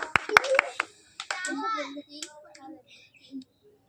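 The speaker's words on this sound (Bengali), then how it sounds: "আবার হাততালি" Hand claps in a bottle-sweep game played for pasta: four quick, crisp claps at the start, followed by someone talking.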